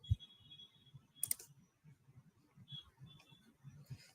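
Soft keystrokes on a computer keyboard tap out a quick, uneven run of quiet clicks, with a single sharper clack partway through, against a near-silent background.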